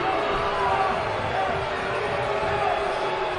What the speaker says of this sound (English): Crowd is really letting the Syracuse bench have it right now.